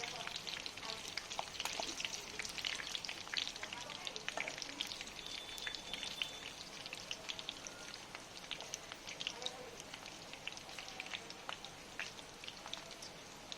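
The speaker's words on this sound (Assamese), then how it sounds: "মাংসখিনি প্ৰায় নিজৰ তেলতে ফ্ৰাই হৈ গ'ল" About 600 grams of pork frying in its own rendered fat, a dense steady crackle and sizzle with sharp pops throughout, close but fairly quiet.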